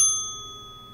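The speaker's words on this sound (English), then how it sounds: "And when you hear a bell" A bell rings once to signal partner rotation at a speed dating event, a bright struck ding that decays into a steady ringing tone over about a second, heard clearly on its own.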